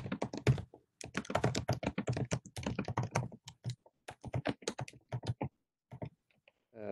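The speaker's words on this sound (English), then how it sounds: "watching what you're typing here" Typing on a computer keyboard during a remote design-team meeting: close, rapid clusters of key clicks in uneven bursts, with brief pauses between runs and no talking over it.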